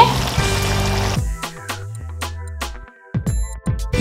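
Onions sizzle and crackle loudly in a hot pan on the stove for a Haitian-style plantain and salt cod sauce dish, with a steady frying hiss and a few clinks and knocks toward the end.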